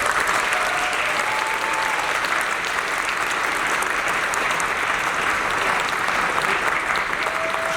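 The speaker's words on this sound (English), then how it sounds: "give him a round of applause" Dense, sustained audience applause greets General William Chen as he comes to the stage at an event, a steady wash of many hands clapping that holds at even loudness throughout with no speech.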